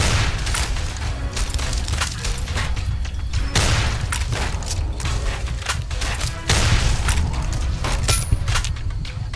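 Rifle gunfire in the Fallout New Vegas video game, a few sharp shots standing out over a dense, continuous wash of game noise and mechanical clatter.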